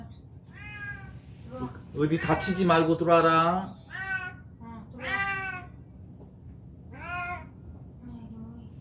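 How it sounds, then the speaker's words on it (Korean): A cat meows several times, close and clear, while a person talks softly in between the meows. "고양이가 사실은 이틀 동안 외출을 했는데 지금 이 순간 들어온 것 같아요."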